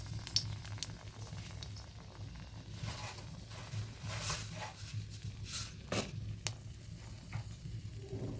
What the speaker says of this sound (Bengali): দিলাম একটা শুকনো লঙ্কা ফোড়ন